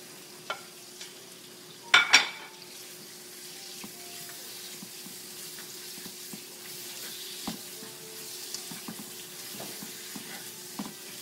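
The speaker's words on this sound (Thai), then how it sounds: "ตอนนี้เราก็ลงหมูเลยนะคะจนกระเทียมมันเหลืองค่ะแล้วก็ลงหมูนะคะ" Pork stir-frying with garlic in hot oil, a faint steady sizzle broken by a few sharp utensil clanks and scrapes near the start, then quieter stirring.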